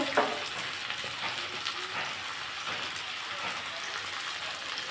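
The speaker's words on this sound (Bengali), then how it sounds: "পরিমাণ মতো হলুদ নুন পরিমাণ মতো সব দিয়ে বন্ধুরা আমি একটু কষিয়ে নেব" Spinach sizzles and crackles steadily in a hot pan as it is sautéed with cumin and chilli powder, a loud, continuous frying hiss with no voices.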